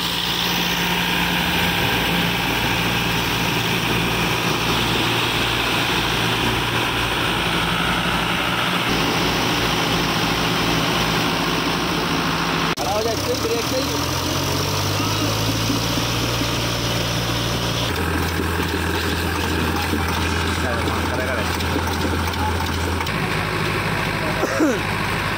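A Powertrac Euro 60, a 60 HP tractor, runs its engine at a steady idle with a low, continuous rumble that shifts pitch in stages, heard up close alongside a loud, busy background throughout.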